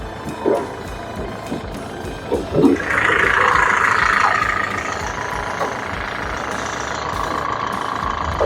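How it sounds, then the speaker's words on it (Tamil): A 2007 Hyundai Verna diesel engine idles steadily at close range, a continuous low rumble with a brighter mid-range whir swelling for a few seconds, plus a few brief knocks and clicks. "இன்ஜின் நல்லா இருக்கு சவுண்டு."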